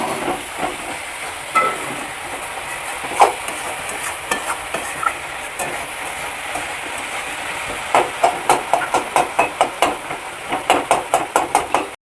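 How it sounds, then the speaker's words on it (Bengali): Spice paste for Bengali doi katla sautés in hot oil, a steady sizzle under scraping stirs, with a quick run of sharp utensil knocks against the pan near the end. "এটাকে ভালো করে কষিয়ে নেব।"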